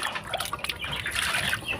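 Water trickles and splashes as it is poured from a well into small pots for backyard chickens, a brief close pour with dripping.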